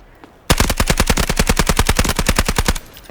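Rapid automatic gunfire in the video game Delta Force, shooting through tree branches: a loud, close burst of about twenty evenly spaced shots lasting a little over two seconds, starting abruptly after a brief quiet lead-in.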